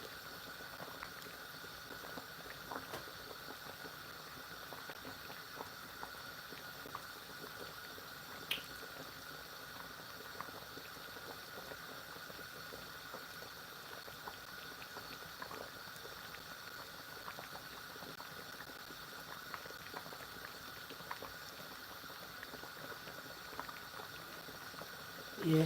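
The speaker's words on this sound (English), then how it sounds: "we have to let that boil a bit" Sour soup simmering in a pot, a steady low bubbling hiss with occasional faint pops running evenly throughout, close and quiet with no talk.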